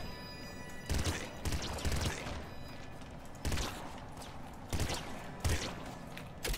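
Energy weapon fire in the game Nuclear Throne comes in several sharp, punchy bursts spaced a second or so apart, each a broadband blast over a busy, noisy game background.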